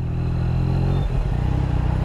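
A 2020 Yamaha MT-09 being ridden after a crash: a steady, low, throbbing engine drone at a constant pitch, with a brief shift in tone partway through. It is close and fairly loud, and there is no talk.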